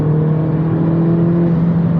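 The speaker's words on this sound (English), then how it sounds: "engine's making a lot more noise" A stock Mini Cooper S R56 engine holds a loud, steady drone in third gear from inside the car, with no talk over it.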